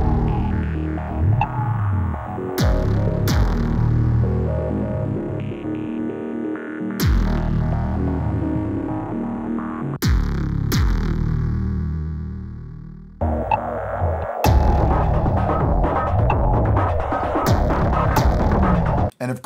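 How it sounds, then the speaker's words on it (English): A fat synth kick drum with gooey distortion thumps and throbs heavily in a repeating industrial pattern, layered with hum and effects, loud and continuous for about twenty seconds without speech. "It's like this fat kick drum with all this extra goo on it."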